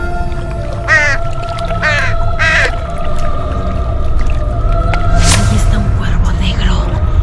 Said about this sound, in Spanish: El cuervo negro.